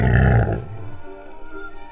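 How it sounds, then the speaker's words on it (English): A lion gives one deep, powerful roar close by, loud and resonant for about half a second, then trails off into quieter grunting breaths. "A lion roared nearby."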